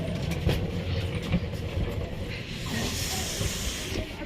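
A train pulls in at a station platform, giving a steady, loud hiss of air or steam that runs for several seconds under busy platform noise.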